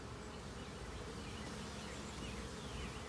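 Dense, steady buzzing of many honey bees close by around a swarm trap, a constant hum with no talking.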